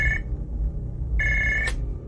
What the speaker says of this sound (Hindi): मेरा फोन फिर से बजा